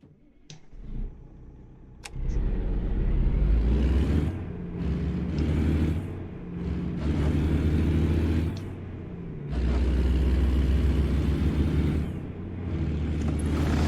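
A W900 truck in 18 Wheels Rollin' gives a deep, steady engine rumble that swells and eases in several stretches, with a couple of sharp clicks early on.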